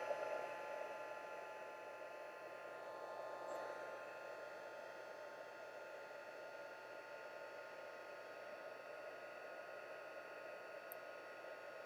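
A Stampin' Up heat tool for embossing runs as a faint, steady blowing hum with a constant tone, continuous and uninterrupted, with no talk.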